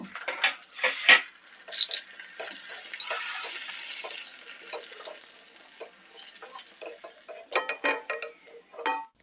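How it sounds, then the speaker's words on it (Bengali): Hot oil hisses and sizzles loudly as homemade fuchka fry in a kadai over low heat, with bursts of crackling and a few metallic clinks. "একটি কড়াই তেল গরম করে নিয়েছি এখন আমি এই ফুচকাগুলো ভেজে নিব"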